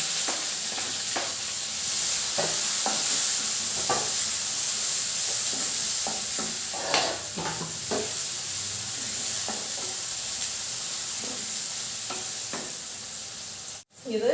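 Onion frying in a pan for a North Karnataka roti meal makes a constant, close sizzle, punctuated by irregular scrapes and taps of a spoon stirring, before a brief knock and pause at the end.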